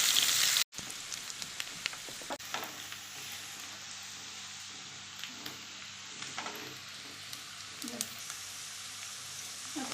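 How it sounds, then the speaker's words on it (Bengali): Onions fry in oil in a pan for rui fish curry, a continuous crackling sizzle that swells after a brief gap, with occasional stirring scrapes and pops. "এরপর আমি পেঁয়াজটা দিয়ে একটু আর একটু ভাজবো, পেঁয়াজটা লাল হবে।"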